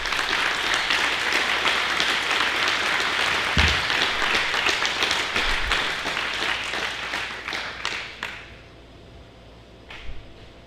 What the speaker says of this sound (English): please give a warm love applause to all the instructors that have helped you this semester